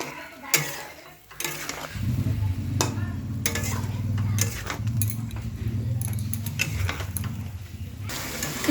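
A spoon stirs a potato, aubergine and hilsa fish curry in a pan, with steady scraping and a low sizzle running throughout, punctuated by a few sharp clinks of utensil on metal.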